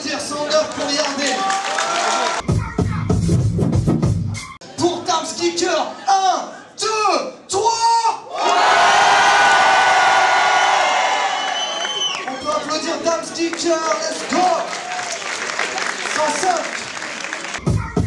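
An audience at an open-mic rap cypher in Marseille bursts into loud applause and whooping cheers, building to a dense peak midway, with shouting and talking voices around it.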